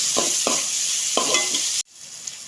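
Green chili and shallots sizzle in a hot pan with a few stirring scrapes, loud and close, before the sound cuts off abruptly.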